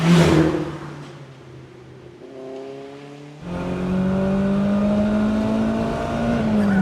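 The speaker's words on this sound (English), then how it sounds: "It's crazy, like, it don't stop revving." A 32-year-old BMW E30 M3, a Japanese import, idles low, then its engine climbs through a long, rising rev that keeps pulling higher, loud and close.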